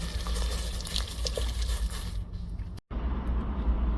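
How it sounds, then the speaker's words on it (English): Vegetables and spices frying in a pan on a Silver Fire rocket stove as soy sauce goes in. Close, crackling sizzle with patter, a sudden brief drop to silence, then the frying resumes. "Now we're going to add some soy sauce."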